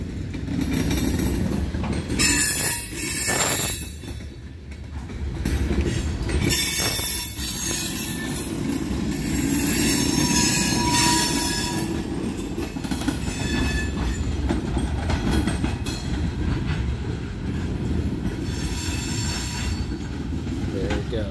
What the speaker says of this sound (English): This train has 46 cars.